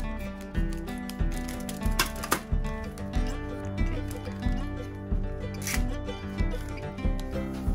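Scissors cut open a small pack of dried yeast, giving a run of repeated crisp snips and rustling crinkles at close range, with no voices.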